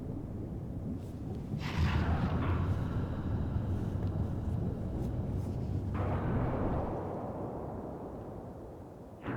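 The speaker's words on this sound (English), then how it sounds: "so that's the cause of the giant explosion" A torpedo explosion in the video game Ghost Trick sounds as a deep, rolling boom that swells and rumbles for several seconds, then fades out slowly.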